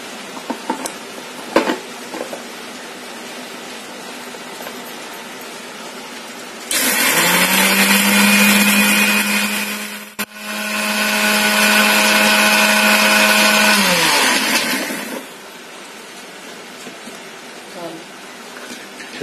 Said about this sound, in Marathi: आता ते मिक्सरमधून बारीक करून घेऊया.